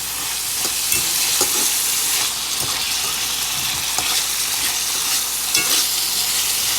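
Egg roll filling with Cajun seasoning stirred in a hot pan, a steady sizzle with repeated sharp scrapes and taps of the spatula against the pan, no talk.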